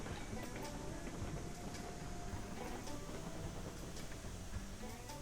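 A steam locomotive runs in the Railroads Online video game, a steady broadband chugging rumble with mechanical clatter that holds at an even level throughout.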